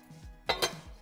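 Metal pan of vegan taco meat being lifted off the stove and set aside, giving two sharp clanks close together with light scraping, nearby and alone.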